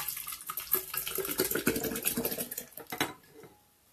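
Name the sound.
pouring fermented milk kefir into a new jar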